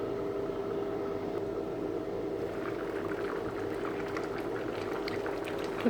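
Tamarind curry with brinjal and drumstick bubbles away in a pot of water, a steady close simmering hiss with popping bubbles that grow busier toward the end.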